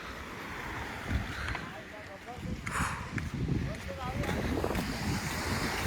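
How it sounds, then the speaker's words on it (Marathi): Wind buffets the microphone over a steady roar of surf washing onto the shore at Nivati beach near Vengurla, while people talk nearby. "आणि हा नेवतीचं समुद्र."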